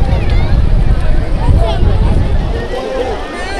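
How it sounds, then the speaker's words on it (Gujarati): Wind gusting by the Mahisagar River near Lanchhanpur village, a loud rumbling buffet across the microphone mixed with flowing water and the babble of people talking nearby. "પવન પણ ખૂબ આવી સરસ આવી રહ્યો છે."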